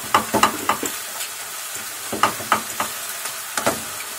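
Pasta being stirred and tossed with a fork in a hot pan, a soft sizzle under irregular clusters of scraping, clinking strokes, close by, with no talking.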